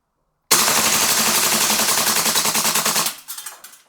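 An Umarex HK 416 A4 gas blowback airsoft rifle empties its magazine in one loud, continuous rapid burst of closely spaced shots, then the rate slows and thins into a few sputtering final pops as the gas runs out.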